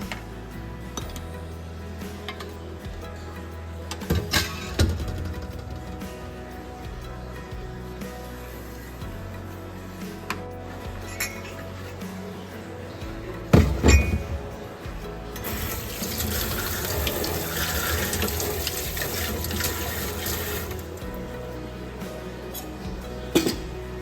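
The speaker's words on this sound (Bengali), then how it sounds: "বাসন কুসন পড়েছে সেগুলো এখন শুধু সিঙ্কে নামিয়ে রাখবো না একদম মেজে ঘষে ধুয়ে রাখবো" Dishes and utensils, including a kadai used for frying onion fritters, are scrubbed and rinsed at a kitchen sink under a running tap, with steady water flow, occasional clinks and knocks of metal, and a louder gush of water midway.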